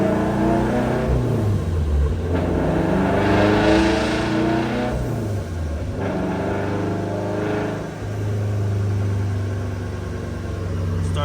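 A turbocharged Scion FR-S with a JDL turbo kit revs hard during a dyno pull. The engine roar climbs and surges in repeated waves, loud and close, with no voices.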